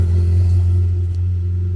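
A Ferrari 488 engine rumbles low and steady close by as the car is driven out, a deep even drone with no sharp revving.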